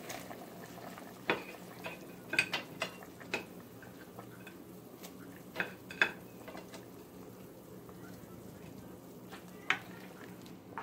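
Corn soup with ginger and red bell pepper is stirred in a pot, producing faint, sporadic clinks and scrapes of a utensil over a low simmering background.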